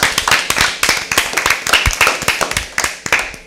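Audience applause for a team in an Easter Bible quiz, a run of many sharp hand claps close by, fairly loud and steady throughout with no talk over it.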